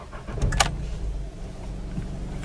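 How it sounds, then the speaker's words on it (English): A 2015 Volkswagen Polo Comfortline with only 14 kilometres on it is started with the key and the clutch applied: a short key and starter sound, then the small engine catching and settling into a low idle rumble, close up. "to turn on the engine, you just apply the clutch and turn the key."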